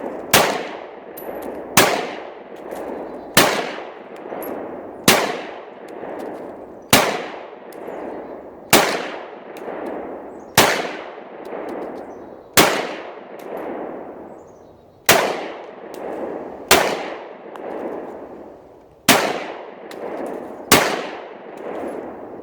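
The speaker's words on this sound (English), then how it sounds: "We're going to try some live fire testing" Sig P320 pistol fired with live rounds, about thirteen sharp loud shots spaced roughly every one to two seconds, each ringing out briefly before the next.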